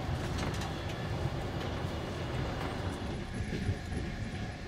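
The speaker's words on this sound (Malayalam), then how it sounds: "ട്രെയിൻ മറ്റൊരു സ്റ്റേഷനിലേക്ക് എത്തുകയാണ്" A Trans-Siberian Railway train in Russia pulling into a station, a steady low rumble of wheels and carriages with faint rhythmic clatter, heard from on board.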